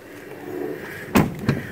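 The door of a 2016 Ram 1500 Sport pickup truck opens with a close mechanical clunk, then a second, softer latch thump, over quiet background rumble.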